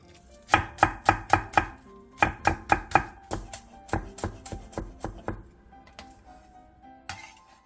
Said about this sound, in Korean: 대파 조금은 길게 반으로 가른 뒤 쫑쫑 썰어서 준비해주세요.